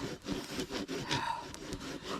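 A saw rasping through wood in quick, uneven strokes at a winter hammock camp, fairly close and a little muffled, with no voices.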